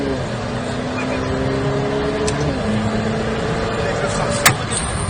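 A Ferrari F8 Tributo engine drones steadily while accelerating on a track, with its pitch shifting as it pulls, heard from inside the car under an instructor's talk.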